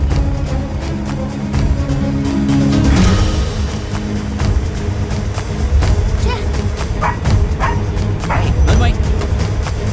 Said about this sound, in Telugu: బస్ ఆపుకుంటా కుక్క అరుస్తోంది